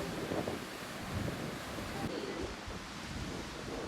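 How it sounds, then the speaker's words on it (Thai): Strong wind roars across rough sea waves at Samila beach, a dense, steady wash of surf and gusts buffeting the microphone throughout. "จะมีสภาพขึ้นลมแรงแบบนี้แหละครับ"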